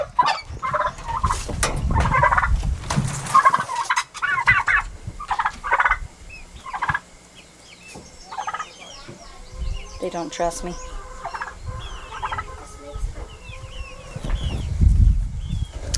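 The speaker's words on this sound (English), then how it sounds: "The rest of these turkeys need to be let out." Homestead turkeys shut in their pen gobble repeatedly in loud, close bursts, with several birds overlapping; a person talks between and over the calls.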